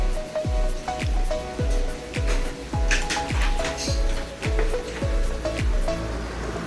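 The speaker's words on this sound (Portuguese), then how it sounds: "É esse rolamentozinho que tá fazendo barulho." A worn bearing in a washing machine knocks in a steady rhythm, about twice a second, as the drum is turned, over a constant rushing hiss.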